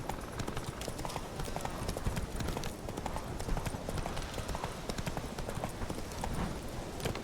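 Roach, the horse in The Witcher 3: Wild Hunt, clip-clops along at a steady gait, hoofbeats close and continuous over busy game ambience, with occasional speech.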